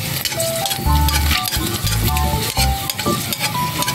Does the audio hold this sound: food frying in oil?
yes